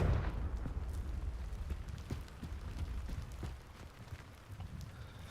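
A Confringo fire spell blast in Hogwarts Legacy bursts at the start, followed by a rumbling, crackling tail with scattered pops that fades gradually at moderate loudness.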